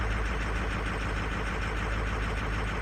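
A truck engine idling after a cold start: a steady, close, low mechanical drone with even rhythm throughout and no voices over it.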